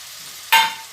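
Ground onion, garlic, ginger and green chili paste hits hot oil in a pan with softened tomatoes for chana masala, setting off a sudden loud sizzle that fades slightly over a moment.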